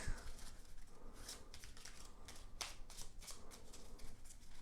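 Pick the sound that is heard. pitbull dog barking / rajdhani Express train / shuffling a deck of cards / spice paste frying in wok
shuffling a deck of cards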